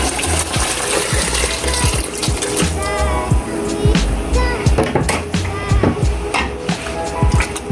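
A milk mixture is poured into a pot of seafood boil, making a continuous gurgling, splashing liquid sound up close, with scattered clinks and knocks throughout.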